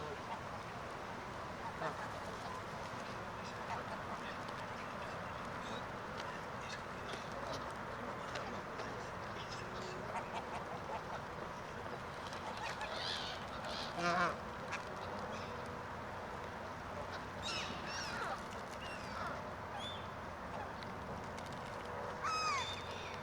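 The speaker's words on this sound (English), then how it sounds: "Oh, those are geese." Geese call in scattered honks over a steady outdoor background, the honks sparse and fairly distant, with a few louder bursts toward the middle and end.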